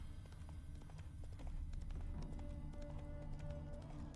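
Hooves clip-clop in quick rhythmic beats as a horse gallops in The Witcher 3, faint and steady under a soft game background with a light tonal cue partway through.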